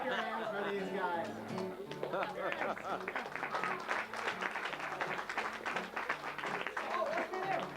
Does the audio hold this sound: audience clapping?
yes